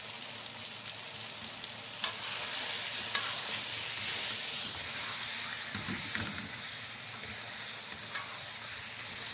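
Spices and tomatoes sizzle and fry in a pan for chicken biryani, a steady close hiss running throughout with occasional stirring scrapes and clinks.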